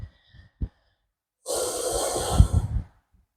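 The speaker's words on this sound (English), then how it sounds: "Nice big deep breaths." During a chair yoga session a person takes a deep breath, a soft airy exhale of about a second and a half that stands out close and clear after a few faint sounds, with no speech.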